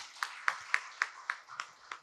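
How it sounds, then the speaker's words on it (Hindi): Applause for an audience at a Hindi motivational talk comes as about eight evenly spaced, faint claps in a steady rhythm, with no voices. "तो आप लोगों के लिए बहुत जोरदार तालियां।"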